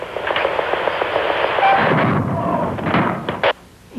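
A hydrogen gas gun fires a scramjet engine test shot, one cannon-like blast with a rushing roar that fades over a few seconds, ending in a sharp final thump.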